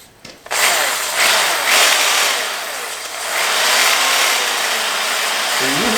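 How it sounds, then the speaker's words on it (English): A fixed-stone hone grinds inside a wet engine cylinder during a block rebuild, giving a loud, steady whirring abrasion that starts abruptly and runs continuously, swelling and easing slightly. "That's why you use a fixed stone hone"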